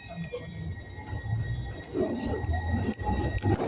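Low rumbling and rattling of a Glasgow Subway train in motion between Partick and Kelvin Hall, with steady humming tones and occasional clanks, heard from inside the carriage.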